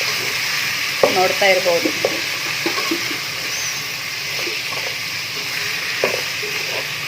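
Onions and spices sizzle steadily in a pan, a continuous broadband frying hiss with a few stirring scrapes, under brief speech near the start; the onions are slightly burnt.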